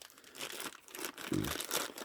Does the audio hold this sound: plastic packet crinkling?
yes